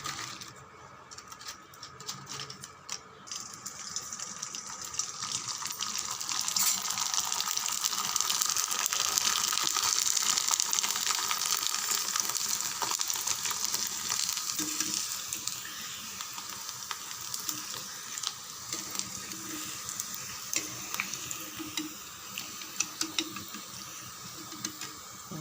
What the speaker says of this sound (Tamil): அப்படியே எண்ணெயில் பொரிச்சிடலாம் ஃப்ரெண்ட்ஸ்.